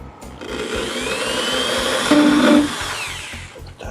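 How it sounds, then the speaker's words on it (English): A power drill whirs steadily while building a canoe, running nearly four seconds close up with a brief louder surge in the middle and no talking. "And then I bring in my drill."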